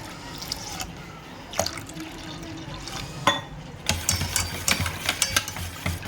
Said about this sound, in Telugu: ఇప్పుడు వాటర్ వేసుకుందాం మనం